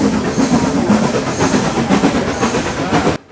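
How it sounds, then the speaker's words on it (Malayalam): A Nilgiri Mountain Railway train on the rack-and-pinion section between Mettupalayam and Ooty, heard from on board as a loud, continuous rumbling roll with a steady rhythmic clatter, cutting off abruptly at the end. "ശ്രദ്ധിച്ച് കേട്ടാൽ റാക്ക് ആൻഡ് പീനിയൻ എൻഗേജ് ആകുന്ന സൗണ്ട് കൂടെ നമുക്ക് കേൾക്കാൻ"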